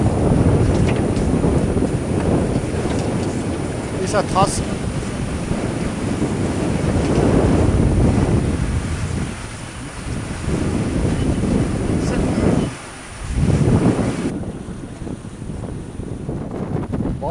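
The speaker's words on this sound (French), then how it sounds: "On retouche un peu de vent, c'est sympathique." Wind roars over the microphone while a sailboat cruises at sea in the evening, a loud continuous rush mixed with water wash, dipping briefly near the end; a voice speaks a few words early on.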